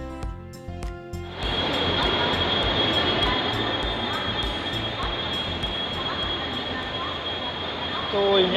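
The Koyna Express stands at a Mumbai station platform; a few short tonal beeps give way to a sudden, steady, loud rushing hiss and rumble that holds to the end, with faint voices mixed in.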